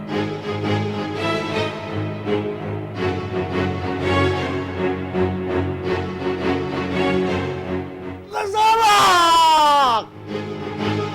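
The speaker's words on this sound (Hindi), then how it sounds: "चीख क्यों रहे हैं आप?" Over steady background music from a Hindi television drama, a person lets out one loud, piercing scream lasting about two seconds near the end.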